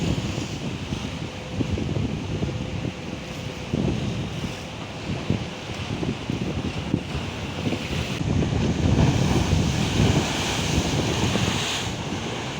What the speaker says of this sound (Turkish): Akdeniz'de şiddetli fırtına denizin taşmasına neden oldu.